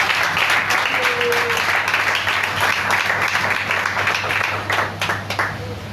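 Church congregation applauding in praise, a dense sustained clapping from many hands filling the room, with a voice briefly heard over it.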